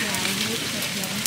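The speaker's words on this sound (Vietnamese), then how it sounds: "Trời mưa quá" Heavy rain falls outdoors beside a charcoal grill, a dense, steady hiss and patter filling the whole moment while a voice talks over it.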